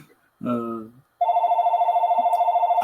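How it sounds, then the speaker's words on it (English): A phone rings with a steady electronic trilling tone, loud and close, just after a short spoken word. "I gotta answer my phone."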